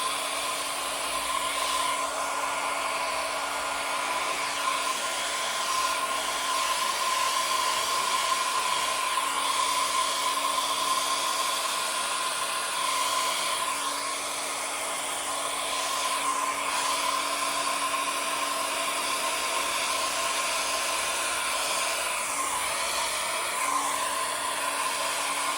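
A hair dryer blows steadily and loudly for the whole stretch, pushing poured acrylic paint across a surface, a constant airy whoosh with no voices.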